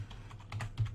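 A handful of quick, close keystrokes on a computer keyboard sound as a command is entered at a Windows prompt, a short burst of crisp clicks with no voice.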